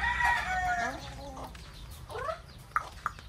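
Gamefowl in a farm breeding area: a rooster lets out a drawn-out crow, followed by shorter calls and a couple of sharp clucks, moderately close over a low background hum.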